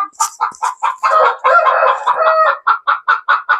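Rhode Island Red hens squawk loudly and repeatedly up close, a rapid series of sharp cackles swelling into a noisy burst, then settling back into rhythmic clucks.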